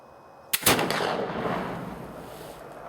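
A Traditions Kentucky flintlock rifle fires one loud, sharp shot outdoors, with a brief crackle from the flash pan, a heavy boom and a long rumbling tail that fades slowly.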